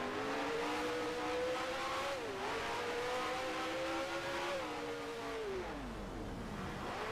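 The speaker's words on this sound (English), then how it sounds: "I can recognize the sound of the Honda engine" A Honda racing car engine in the Grand Prix Legends game at Monaco screams steadily at high revs, its pitch rising and dipping through gear changes and corners, loud and continuous throughout.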